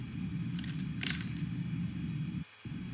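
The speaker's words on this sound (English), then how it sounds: "So as you can see, the coin came down first before the piece of paper." A coin drops and lands with a brief bright metallic clink, quiet and close, during a classroom physics demonstration of falling objects alongside a piece of paper, followed by steady low background hum.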